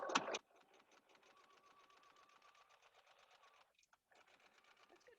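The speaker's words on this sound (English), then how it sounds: "Get some stitching in." A sewing machine stitches quilt binding, a quiet, rapid, even whirring that runs for several seconds, pauses briefly, then starts again, with short louder handling noises at the start and end.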